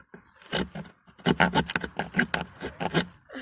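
A serrated knife from a survival kit saws back and forth, producing rough rasping strokes in quick succession, close and fairly loud, after a brief quieter scrape.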